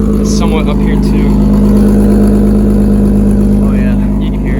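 A Toyota Supra with a 7M engine idles loudly up close, its exhaust leak giving a steady droning rumble throughout, with a voice talking over the engine.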